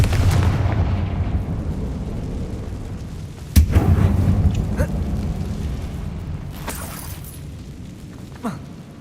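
Explosive blast from the Confringo fire spell in the Hogwarts Legacy video game, a sharp boom bursting over a steady low rumble of game sound, followed by scattered crackles and smaller pops.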